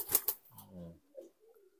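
An old-style tomprangan pigeon coos in low, soft, rolling notes, followed by a shorter fainter coo. A couple of sharp clicks come just before it.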